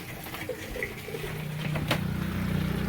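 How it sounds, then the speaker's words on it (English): A small RV water pump kicks on and runs steadily, pulling potable water through the lines while dry camping; a low, continuous mechanical hum builds and holds close by under faint background noise. "So now we're going to pull water through, and you'll hear that pump come on."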